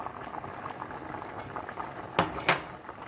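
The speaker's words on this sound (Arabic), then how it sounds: "اغطيها بالغطاء واتركها تفور" Broad beans boil in a pot with the lid on, a soft continuous bubbling and simmer with two sharper clinks of the lid or pot near the end.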